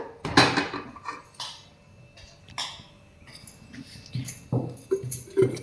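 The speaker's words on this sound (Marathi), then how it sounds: "आता कुकर ठेवायचा." A pressure cooker set down on a gas stove in a home kitchen, giving several close metallic clunks and clatters with short pauses between them, with no talk.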